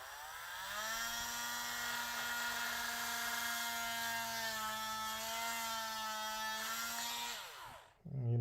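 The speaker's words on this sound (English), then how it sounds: "we're going to drill a hole in the middle here where it snapped" A small drill whines steadily and close up while boring a hole into the snapped waist of a Mafex Superman action figure, holding an even pitch for several seconds before spinning down and stopping.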